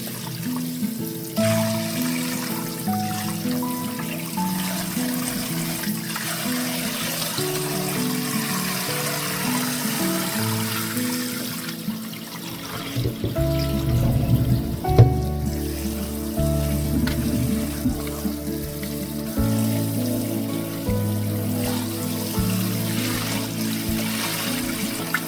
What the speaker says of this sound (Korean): 먼저 묵은지를 흐르는 물에 씻어주세요.